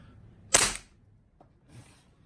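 A Hi-Capa 5.1 T-Rex airsoft pistol fires a single sharp, loud pop through a chronograph, followed by faint clicks and a soft mechanical rattle as it settles.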